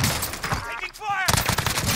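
Gunfire in Call of Duty Warzone bursts in rapid, dense volleys close by, with a brief pause and a short electronic cue in the middle before the shooting resumes.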